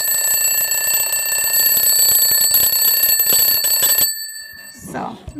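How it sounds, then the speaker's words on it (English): A vintage-style Hippih alarm clock rings loudly and steadily for about four seconds with a bright, continuous metallic tone, then stops, leaving a brief faint rustle. "So, nice little alarm clock."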